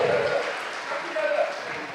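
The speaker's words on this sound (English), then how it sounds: "A big, big round of applause for our youngsters." An audience applauds young dancers at an India Independence Day celebration in a Chicago club. Steady broadband clapping rolls through the full two seconds at a fairly even level, with tonal music or voices faintly underneath.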